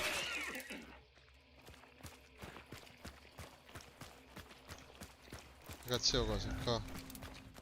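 Horse hooves clop in the video game Human Hunt, an even trotting rhythm of sharp hits under a man's Italian speech, ending in a louder jumbled burst of game noise.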